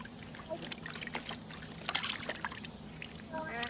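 A show chicken being rinsed in a tub of water, with soft sloshing and trickling close by, under a person talking quietly.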